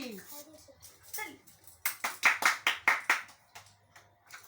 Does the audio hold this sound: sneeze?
no